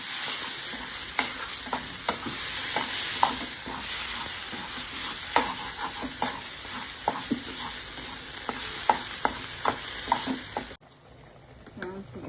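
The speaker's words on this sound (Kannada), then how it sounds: "ಚಿಲ್ಲಿ ಮತ್ತು ಗಾರ್ಲಿಕ್ ಪೇಸ್ಟ್ ಮಾಡ್ಕೊಂಡಿದ್ವಲ್ಲ, ಈಗ ಸ್ವಲ್ಪ ಹಸಿ ವಾಸನೆ ಹೋಗೋವರೆಗೂ ಹುರ್ಕೊಳ್ಳೋಣ" Chilli garlic paste sizzling and frying in a pan for chilli garlic prawns, a dense steady hiss broken by frequent spoon scrapes and stirring clicks, close and continuous, then cutting off abruptly near the end.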